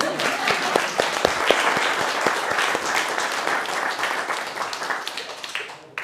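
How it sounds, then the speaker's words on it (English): An audience at a monthly agile coaching meetup claps after a talk, with distinct individual claps audible at first inside warm, moderate applause that gradually thins and fades out. "Or applause for me, thank you."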